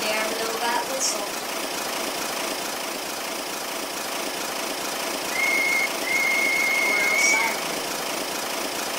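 A steam locomotive whistle in the Roblox game Steam Era, sounding in two sustained blasts, the second longer, over a steady engine rumble and ambient noise, with speech around it.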